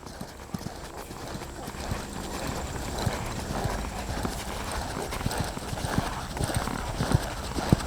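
Horse hooves clip-clopping in a steady lope during riding training in an arena, rhythmic thuds at moderate distance, with a person talking over the hoofbeats.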